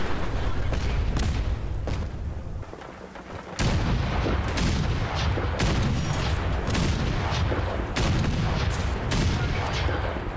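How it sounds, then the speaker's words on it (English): Rockets fired at the player in Fallout 4 boom in a rapid series of loud, close blasts and bursts, with sharp cracks recurring across the stretch over a continuous rumbling background. "Did that thing just launch rockets at me?"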